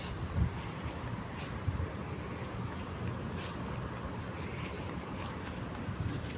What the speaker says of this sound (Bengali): মনোরম বাতাস অনেক সুন্দর বাতাস